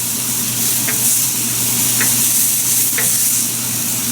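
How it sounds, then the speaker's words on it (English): Onions frying in a pan, cooked until translucent during a pan-fried salmon meal: a steady, loud sizzle runs throughout, with a few soft clicks of stirring against the pan about once a second. "So I want to cook the onions till it's translucent."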